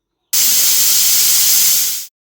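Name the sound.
pressure cooker whistling while cooking vegetable curry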